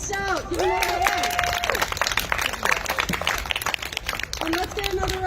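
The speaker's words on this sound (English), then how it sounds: "Everyone, Mike Stout, give him a hand." An audience at a campaign kick-off rally with speeches and music claps steadily in a dense wash of applause, punctuated by a few loud whistles, with cheering voices mixed in.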